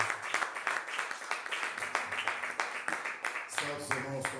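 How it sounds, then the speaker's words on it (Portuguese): A church congregation applauds during a worship service, a steady mass of clapping with a voice speaking over it and a tonal sound rising near the end. "Você pode aplaudir o Senhor nesse momento com essa palavra?"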